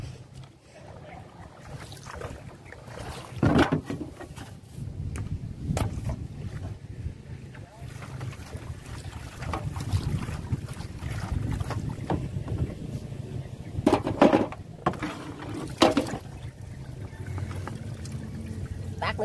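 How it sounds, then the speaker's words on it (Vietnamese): Steady wind and water noise surround a small boat, with low rumbling, occasional knocks and splashes as it rocks; voices murmur faintly at times. "Đây đi cái ghe nhỏ quá nó lắc."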